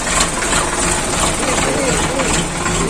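Tractor engine running through coastal floodwater, a steady, loud, continuous mechanical rumble with broadband noise that masks everything else, close by.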